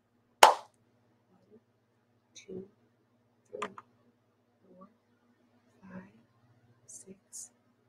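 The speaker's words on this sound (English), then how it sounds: "I'm going to clap my hands" A single sharp hand clap, close and loud, followed by faint scattered clicks and soft murmured speech in a quiet room.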